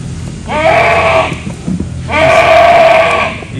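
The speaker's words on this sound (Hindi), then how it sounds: "बकरी बड़ा शोर कर रही है जी।" A goat on a farm bleats loudly twice, each long wavering cry lasting about a second and a half, very close and dominant, separated by a short pause.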